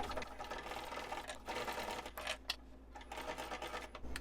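A sewing machine back stitches a wristlet seam at a 3.5 stitch length, giving a quiet, rapid mechanical whir that speeds up, slows and pauses briefly as the stitching changes direction.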